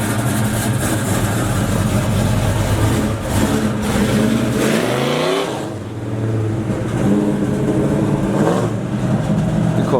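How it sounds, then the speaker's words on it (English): A big-block Chevy Camaro revs its engine hard, a deep rumbling roar that rises and falls through several blips. It settles near idle briefly, then climbs again. Loud and close. "The car sound good, y'all."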